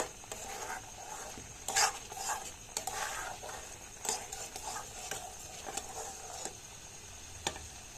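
A thick, sticky mixture is stirred in a pan, with repeated soft scraping and clicking strokes of the spoon against the metal over a faint sizzle, fairly quiet and close, with no one speaking.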